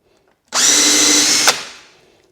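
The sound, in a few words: drill boring hole with Forstner bit in Kreg jig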